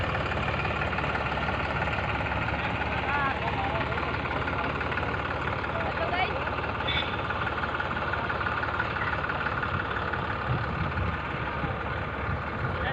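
A tractor runs steadily through a potato-digging field, its engine a continuous close drone with a busy rattling texture, heard throughout without clear breaks, while faint voices mix into the background.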